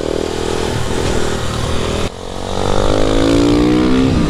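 Motorcycle engine revving loud and close, pitch rising as it accelerates, with a brief drop partway through before climbing again into a strong sustained whine.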